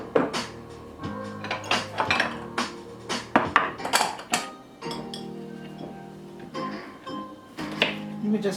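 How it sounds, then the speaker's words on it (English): A kitchen knife chops onions, leek and shallots on a board for a plant-based breakfast, giving sharp irregular knocks and clatters with some pauses, while a person speaks at times. "We're just chopping the onions and the leek and the shallots."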